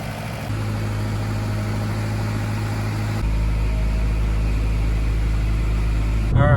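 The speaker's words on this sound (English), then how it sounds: "so we're in the Polo for a test drive now" A Volkswagen Polo's engine runs steadily just after a clutch replacement, with a continuous low hum. The hum deepens and strengthens about halfway through, and a brief higher-pitched sound rises at the very end.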